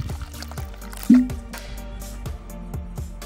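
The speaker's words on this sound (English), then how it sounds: "Some water, mix it around." Water being stirred in a basin while hand-washing laundry with a spoonful of detergent, with close drips, splashes and a brief squishy slosh, no talk.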